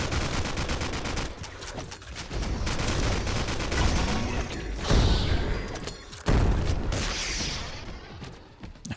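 Missiles exploding amid rapid gunfire in the battle royale video game Skillshot City, with dense bursts of shots, heavy booming blasts and thuds, loud and near, with no talking.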